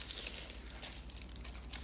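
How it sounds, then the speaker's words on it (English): Dry papery skin being peeled off an onion, brief close crinkling and crumpling with a soft tearing edge, fairly quiet and with no voices. "Get rid of this skin."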